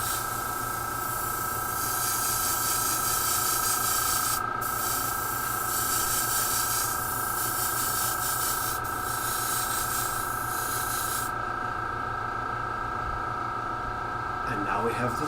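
An airbrush sprays white paint mist onto a hobby model, a continuous close hiss running steadily underneath someone talking throughout.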